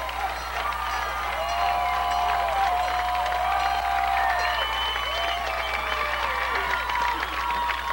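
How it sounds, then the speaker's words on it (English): A stadium crowd at a 1994 high school football sectional final roars steadily, cheering and chanting after the victory, a dense continuous wash of voices and clapping with a few shouts rising above it throughout. "And crowds chanting, Hilton, Hilton, right to be."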